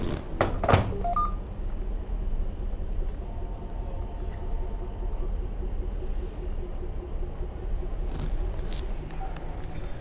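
A smartphone keypad gives a few quick, short dialing tones near the start, then fainter tones later, all over a steady low rumble.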